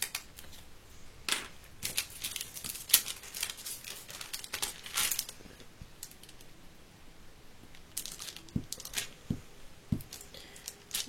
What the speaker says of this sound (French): j'utilise les plastiques d'emballage, vous voyez, pour faire ma petite colle